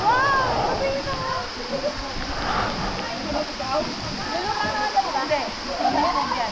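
Batlag Falls waterfall in Basco sends up a steady broadband rush of falling and splashing water close by, while people talk excitedly over it.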